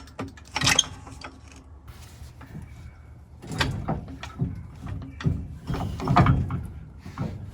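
Jack lowering the rear axle of a 1936 Chevy coupe during a lowered leaf-spring install, giving soft intermittent clicks, creaks and metallic clunks close by in a quiet garage.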